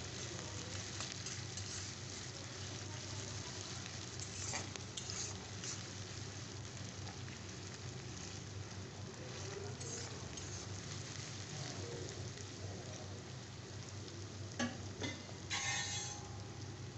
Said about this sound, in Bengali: পেঁয়াজটাকে আমি তেলে ভালো করে ভেজে নেব।